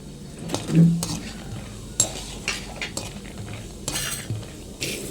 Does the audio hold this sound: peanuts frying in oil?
yes